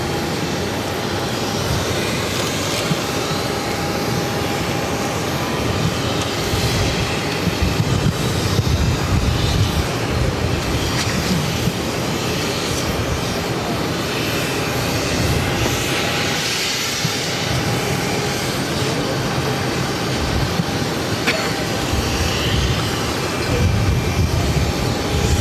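An Airbus A330-200 airliner taxis for departure at Boston airport, a loud, steady engine roar and whine that holds unbroken for about twenty-five seconds with no pauses.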